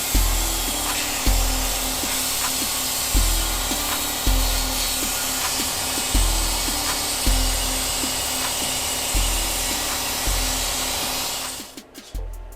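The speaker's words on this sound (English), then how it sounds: "get the air compressor fired up, get some ear protection on, and be at this for like 10 minutes" An air compressor blows air steadily into a motorcycle fuel tank on a Honda CX500 build, a loud continuous hiss with regular rhythmic pulses from the compressor cycling about every second, ending abruptly.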